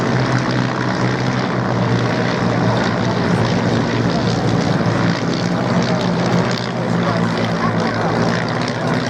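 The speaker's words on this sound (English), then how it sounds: "Glorious sound from those 130 horsepower DeHavilland 60 major engines" Steady, loud propeller-engine drone of vintage 1931–1945 de Havilland biplanes with 130-horsepower Gipsy Major engines at an airshow, a continuous throbbing roar holding level throughout with no pauses.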